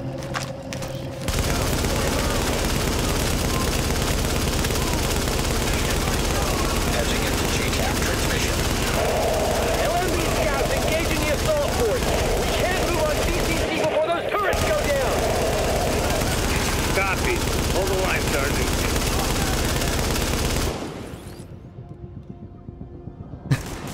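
Sustained heavy gunfire in The Division, dense overlapping shots and automatic bursts running almost continuously for about twenty seconds before cutting off, loud and close, with a voice speaking over it.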